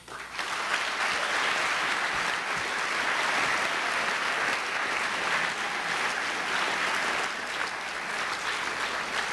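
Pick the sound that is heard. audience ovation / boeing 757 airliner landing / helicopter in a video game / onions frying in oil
audience ovation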